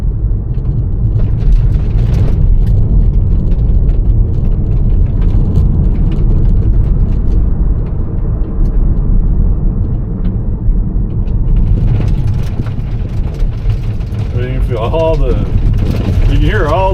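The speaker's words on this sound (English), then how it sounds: "You can hear all the gravel running up against the bottom of the car." Gravel rattling and spraying against the underside of a moving car on a Texas road under construction, a steady gritty rumble with road noise throughout, and people talking over it.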